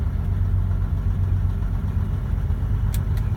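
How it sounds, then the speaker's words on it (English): A car engine idles with the air-conditioning compressor engaged, giving a steady loud low rumble throughout, close up, with a couple of faint brief clicks near the end and no voices. "And suddenly I felt drag on the engine too, so the compressor must have kicked in."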